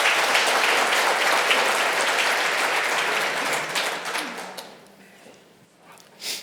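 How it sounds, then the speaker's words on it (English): Audience applause at an annual dealer conference before the top-ten dealer awards, sustained full-room clapping that thins out after about four seconds into light room sound and a final soft sound. "Let's give them all a round of applause one more time."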